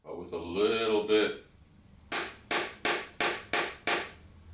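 Six evenly spaced sharp knocks on the aluminum front, side and rear wheel wells of an 818 SRX kit car, loud and ringing, coming after a short stretch of speech.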